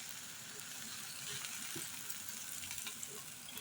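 Onions and tomatoes, both whole and ground, frying in oil for a quail thokku: a faint, steady hiss of frying with occasional soft pops and no talking.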